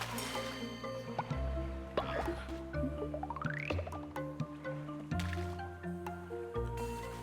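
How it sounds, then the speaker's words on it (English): Watering cabbage in Cult of the Lamb gives soft, squishy liquid drips and splashes over layered game music, including a rising tone, with no talk. "still need to water the cabbage"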